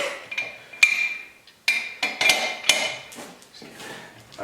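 A wrench works the lug nuts on the Bora wheel spacers of a Kubota B2601 tractor, making sharp metallic clicks and clanks in irregular bursts, close and fairly loud against a quiet background.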